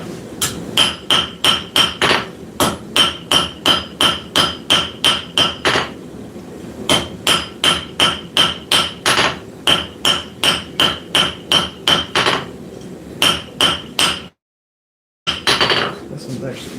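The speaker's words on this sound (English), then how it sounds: "use the planishing hammer to smooth" A planishing hammer smooths hot forged steel on an anvil in a workshop, delivering loud, rapid, evenly spaced ringing blows in long runs with a brief pause and a short silent gap near the end.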